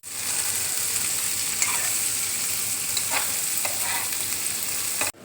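Kabuli chickpeas frying in hot oil in a pan, with black salt and red chili powder added, give a steady, close, even sizzle with faint stirring scrapes throughout and no talking.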